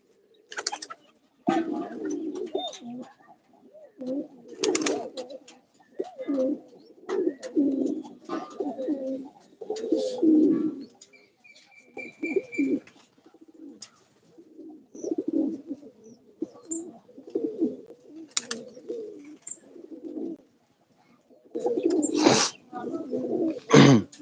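Pigeons cooing nearby in repeated rolling phrases separated by short pauses, with occasional sharp knocks and a few spoken words between phrases.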